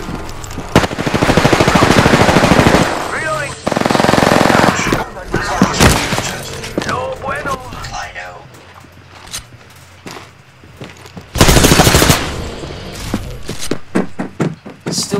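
Gunfire from Apex Legends comes in long rapid automatic bursts with sharp single shots between them. Loud in-game effects and people talking fill the gaps.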